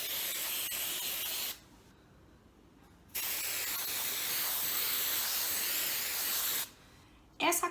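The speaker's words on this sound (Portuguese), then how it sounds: "Eu vou usar essa cola spray aqui da Amazonas, ó, que ela tem um jato bem direcionado" Amazonas spray contact adhesive hissing from its can in two long, steady bursts of close, loud spray with a brief pause between, used while making a fabric Bible cover.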